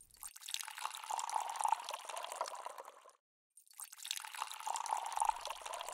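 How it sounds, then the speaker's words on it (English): A drink is poured into a glass in two separate bursts of continuous splashing liquid, close and fairly soft, with a short silent pause between them. "Pour us a glass each."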